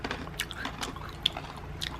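Crisp bites and crunching chews on a very crunchy butter cookie, several close, sharp crackles in quick succession with no talking.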